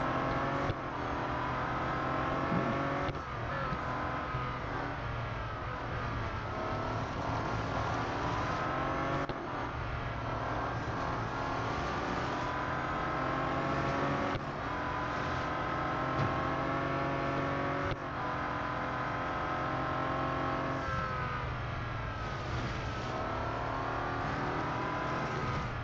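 A Bentley Continental GT Speed and rival cars race in Real Racing 3, the engines droning loudly and continuously, pitch climbing through each gear and dropping at every shift across the whole stretch.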